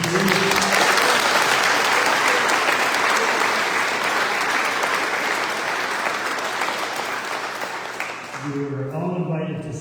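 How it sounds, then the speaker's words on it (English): A crowd gives sustained, dense applause for local candidates at a municipal meet-the-candidates evening in the County of Antigonish. The clapping stays steady and loud before tapering, and a voice begins speaking at the very end. "If we could have a round of applause for your candidates here."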